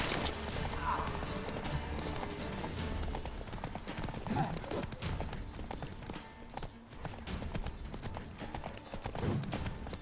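In The Witcher 3, a horse gallops with rapid, continuous clip-clop hoofbeats under game sound effects, and a voice talks over it.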